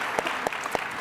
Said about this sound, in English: why don't we have an encore round of applause for Sam McCracken